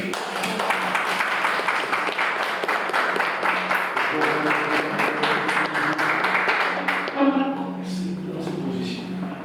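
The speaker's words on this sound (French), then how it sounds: "Et on l'applaudit," An audience applauds a volunteer at a Messmer hypnosis stage show, dense sustained clapping for most of the span that fades near the end as a voice speaks over it.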